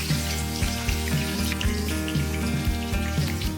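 Vegetables sauté in oil in a pan for a Chinese dinner, giving a steady sizzle that runs the whole time under prominent rhythmic background music.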